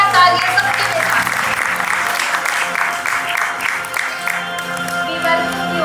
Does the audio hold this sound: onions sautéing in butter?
no